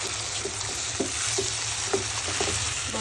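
Taro greens dropped into hot oil with fried onion and garlic, giving a steady sizzle punctuated by periodic stirring clicks and scrapes roughly every half second, close and moderately loud, with no voices.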